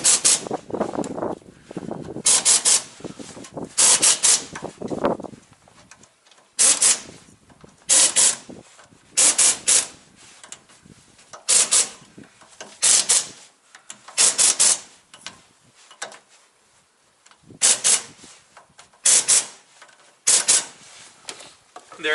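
Torque wrench tightening the wheel bearing hub nut on a utility semi trailer, heard as a run of short, sharp ratcheting bursts repeated at close range with brief pauses between them.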